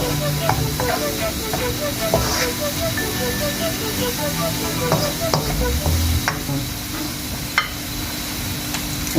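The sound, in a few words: onions frying in oil before adding mutton for daalcha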